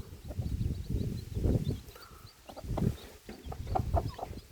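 Young chickens, six or seven in a small group, cluck and peep in scattered soft bursts close by, with no talk.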